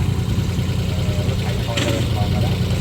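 A homemade tractor built for paddy field work idles with a steady low engine rumble and vibration throughout, close by, while people talk over it.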